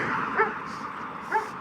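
A dog on a terrace in a town on the Seine gives two short barks about a second apart, moderately close, over steady outdoor background noise.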